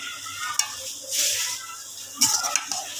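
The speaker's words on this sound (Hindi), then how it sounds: "अच्छे तरीके से साथ साथ हमने हिलाते जाना है" Pumpkin halwa being stirred in milk in a cooking pot, with a soft bubbling simmer and a few sharp scrapes and clinks of the spoon against the pot, close and with no voices.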